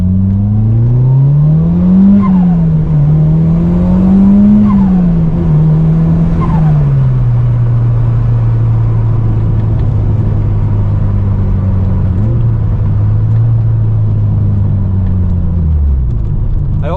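A Mitsubishi Lancer Evolution 5 rally car drives at a relaxed pace, heard loud and close from inside as a deep steady engine drone rising and falling gently with throttle before easing down near the end.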